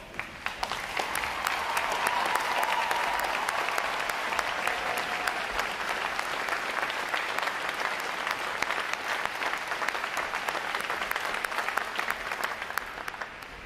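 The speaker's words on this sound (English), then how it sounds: "Veterans, please stand so we give you a round of applause." A long, steady round of applause from a large audience for standing veterans at a U.S. Navy Recruit Training Command boot camp graduation, dense crowd clapping sustained evenly throughout, moderately distant.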